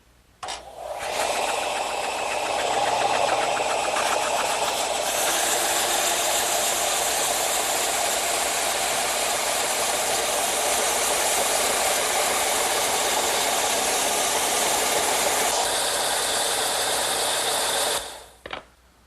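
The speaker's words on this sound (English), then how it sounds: "I'm going to use my vertical belt sander." A vertical belt sander tapers the edges of wood for a candle stand, a continuous bright whirring grind after a short start-up that holds steady, then cuts off near the end.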